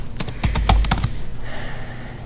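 A quick burst of computer keyboard typing, several close clicky keystrokes in a brief flurry, then quieter background noise.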